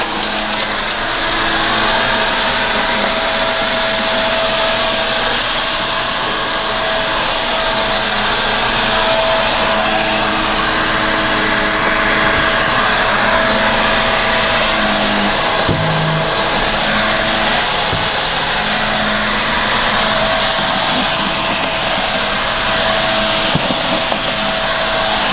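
A Eureka Floor Rover Pet vacuum cleaner runs steadily at close range, a loud continuous motor whine and suction roar that holds without a break throughout, with no one talking.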